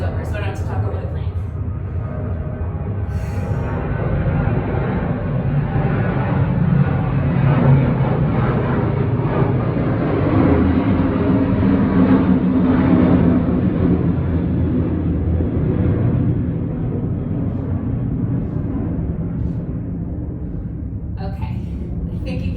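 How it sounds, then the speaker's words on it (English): An airplane flies overhead during an outdoor workout, its broad roaring rumble building, holding loud for many seconds and then slowly fading as it passes. "I will take the rest while this plane goes over, so I don't have to talk over the plane."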